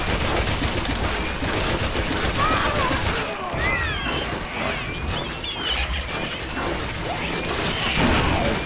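Gunfire and chaotic combat in the Resident Evil 6 video game, a dense, continuous barrage of shots and crashes with metallic clatter, loud and busy throughout, with a voice heard faintly beneath.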